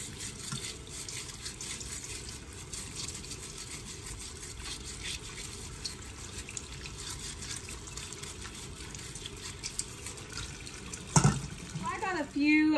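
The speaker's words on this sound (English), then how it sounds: "I'm going to wash them just a few at a time" Potatoes being washed under a running sink tap, a steady stream of water splashing continuously with light handling noises, and a brief clatter near the end.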